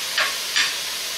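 Chicken pieces frying in a hot skillet, a steady close sizzle with two brief scraping swells as they are stirred.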